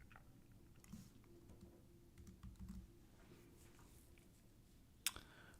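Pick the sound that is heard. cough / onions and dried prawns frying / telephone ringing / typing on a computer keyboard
typing on a computer keyboard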